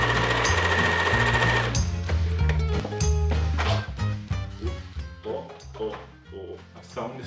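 A sewing machine stitches straps together, its rapid mechanical whirr running loud and close, steady at first and then breaking into shorter bursts and stops as the fabric is moved.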